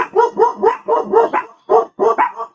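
A dog barks close by in a rapid series of about nine sharp barks, with a short pause before the last few and no other voices.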